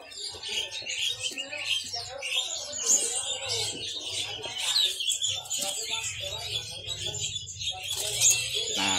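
Caged songbirds chirp and call at Pramuka bird market, bright repeated tweets and trills from several birds close by, with people talking throughout.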